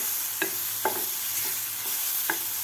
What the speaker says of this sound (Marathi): व्यवस्थित आपल्याला ठेचा परतून घ्यायचा आहे